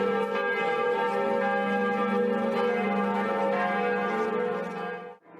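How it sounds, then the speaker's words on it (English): The great bells of St. Peter's Basilica in the Vatican toll for the death of Pope Francis, rich sustained peals ringing loud and overlapping before fading out at the end. "The bells of St. Peter's Basilica in the Vatican rang out due to the death of Pope Francis."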